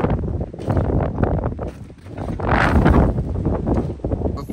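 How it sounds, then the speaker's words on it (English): Outdoor wind gusts buffet the microphone with uneven rumbling surges, swelling strongest midway through and then easing, with no talk. "And the wind seems to be picking up."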